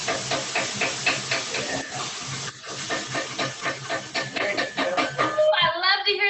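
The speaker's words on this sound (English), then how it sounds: "Ooh, I love to hear that sizzle in the background." Vegetables for a chicken enchilada casserole sizzle loudly in a hot pan, a dense, pulsing hiss close by, with voices faintly under it.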